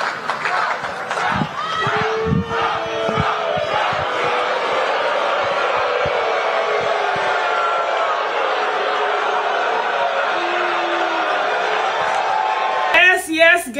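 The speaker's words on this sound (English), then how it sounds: "you can hear the boos in the crowd" A large crowd at the Libertarian Convention boos Donald Trump in a sustained, dense roar of jeers and shouts, loud and continuous with scattered whoops and a voice breaking through at the end.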